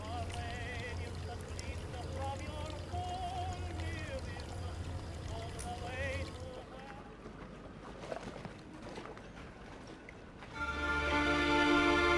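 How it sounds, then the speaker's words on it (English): Steady pour of water into a bottle from a fountain in a point-and-click adventure game, a rushing trickle running under a narrating voice, followed by a louder splashy burst near the end. "I filled the bottle with water from the fountain."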